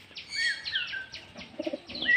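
Pigeons and pigeon chicks kept at home give a quick run of high, squeaky chirps and whistled calls, close and repeated several times within a couple of seconds.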